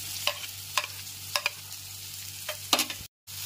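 Chopped tomatoes fry in a pan over a low-to-medium gas flame for masala macaroni, a soft steady sizzle broken by a few sharp scrapes of a stirring spoon against the pan.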